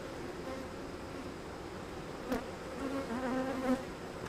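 Steady insect buzzing fills the air, a low continuous drone of many bees around an open hive during a hive split, with a couple of brief louder passes up close.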